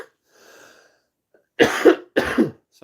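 Two tickly, rasping coughs from one person, close and loud, following a brief faint throat noise.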